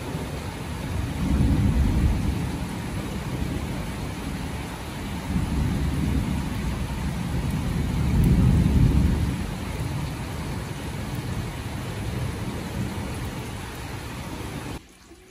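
Heavy summer rain shower with thunder, a steady loud roar of downpour with several deep rumbling swells of thunder rolling through, no voices.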